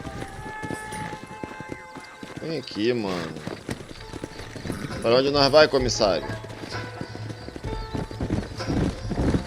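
Horse hooves clip-clopping at a run in the Red Dead Redemption video game, with whinnies and game dialogue and a voice talking over the steady galloping.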